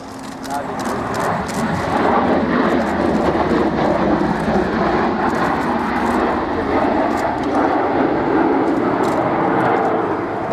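A US Air Force CV-22 Osprey tiltrotor flies a display at the Royal International Air Tattoo 2015, its steady loud engine and rotor roar sustained throughout, with a commentator talking over it.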